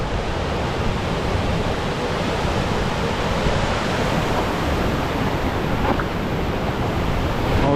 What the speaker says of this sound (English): All right, we made it to the river.